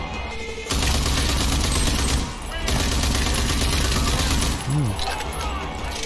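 Sustained automatic gunfire from the video game Rage 2 in a dense, loud barrage lasting several seconds, with a brief pause midway before the firing resumes.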